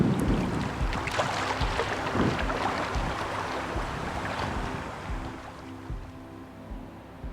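Steady gusty wind buffets an outdoor swimming pool on a cold day, a broad rushing roar with some splashy water texture, easing slightly toward the end.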